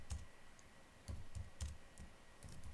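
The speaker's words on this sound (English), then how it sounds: "So now I am typing the title." Quiet, sparse clicks of typing on a computer keyboard during a live podcast recording, a handful of separate keystrokes spaced irregularly with soft room noise between them.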